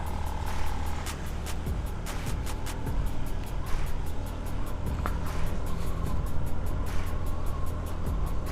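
A car drives along a dark, dirty mountain trail at night near Puncak 2 in Bogor, West Java, a steady low engine and road rumble with scattered clicks and knocks throughout.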